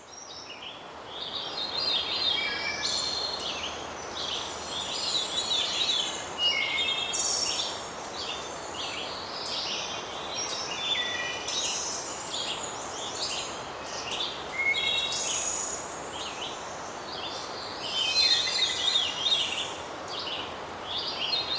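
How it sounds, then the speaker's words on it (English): Warblers, vireos, flycatchers and thrushes sing in a dense early-morning chorus of overlapping high chirps, trills and whistles, steady and continuous throughout with no talking. "an especially rich and abundant bird life, including a bonanza of warblers and vireos shown here, flycatchers, thrushes, and more"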